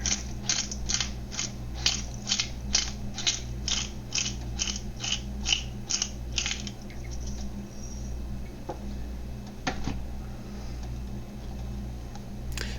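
A pepper mill grinds black pepper into tomato and egg swirl soup, giving a rapid series of about a dozen close, crisp ratcheting clicks that stop halfway, followed by quieter kitchen handling sounds.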